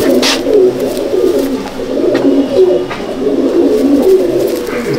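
Pigeons of the KGN chotial line coo over and over in a loft at Kestopur, their soft, throaty calls overlapping in a close, continuous murmur with faint background noise and no talking.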